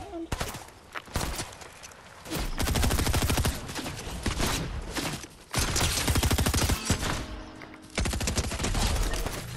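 Heavy gunfire in a video game, with repeated loud bursts of shots and volleys aimed at the player, coming in dense waves with brief lulls in between.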